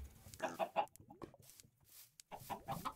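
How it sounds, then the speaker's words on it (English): Chickens in the Minecraft video game cluck in short, close bursts, with a pause in the middle before another run of clucks. "Yeah, chickens are out"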